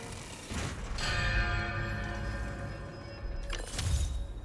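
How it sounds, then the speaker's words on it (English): Struck bell tones in Spider-Man 2, made with a small object the same shape as Kraven's bell: two ringing hits with long shimmering decay that overlap, set over a dense game soundscape. "Gotta recreate the sound of Craven's bell."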